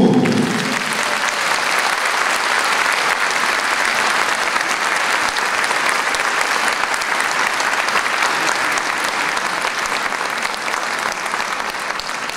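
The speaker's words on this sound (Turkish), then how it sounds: "Kocaman alkışlarınızla." An audience at an Atatürk centenary concert applauds loudly and steadily, a dense, sustained wall of clapping that carries on without a break from start to finish.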